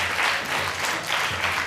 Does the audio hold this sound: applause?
yes